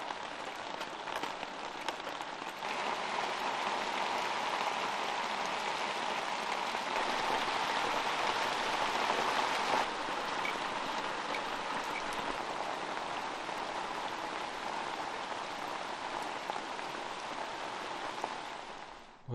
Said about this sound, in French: La pluie a presque cessé, il pleuvait un petit peu.